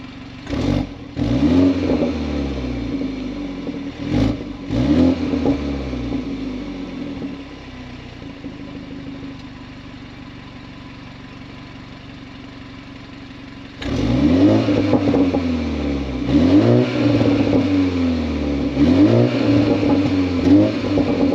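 A BMW engine and exhaust rev close by in repeated rising and falling bursts. The revving drops to a steady idle for several seconds and then picks up again with more throttle blips.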